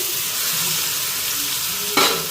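Fish sizzles in hot oil in a pan with turmeric, salt and spices, a steady close crackle with a brief louder burst of sizzle near the end.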